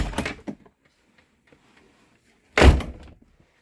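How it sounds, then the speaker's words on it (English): A 2019 Allegro Red RV entry door is opened: a short latch click at the start, then quiet, then a louder thunk as the door swings or settles, heard close with no talking. "Now this is set up so when you open up the entry door,"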